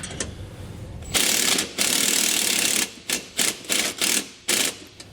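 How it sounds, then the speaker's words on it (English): Ratchet with a 9/16 socket tightening bolts on a scissor jack stabilizer brace for a trailer, long clicking runs followed by several short bursts of ratcheting, close and clear with no talk. "we'll come back with a 9/16 socket and wrench. We're going to tighten the hardware down."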